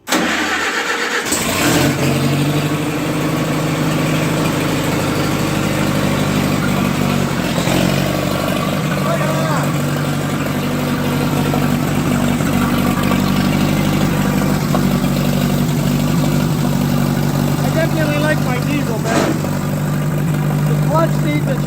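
The engine of a 1958 Oliver 550 gas tractor cranks, catches and settles into a loud, steady running rumble close by, with a person talking over it.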